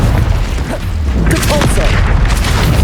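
Confringo spell explosion in Hogwarts Legacy on PS5, a loud low boom that swells with a bright burst partway through, surrounded by battle noise and brief voice-like cries.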